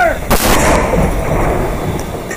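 A black powder cannon fires at Fort Mackinac with one loud, close boom, followed by a long rolling echo that fades slowly outdoors.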